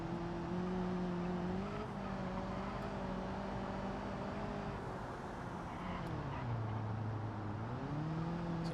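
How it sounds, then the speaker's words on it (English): Car tyres squealing in the BeamNG driving game, a long continuous tonal screech that bends up and down in pitch over a steady engine drone, loud and close throughout with no talking. "You can hear the wheels squealing a lot."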